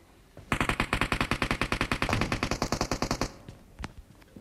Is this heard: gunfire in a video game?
yes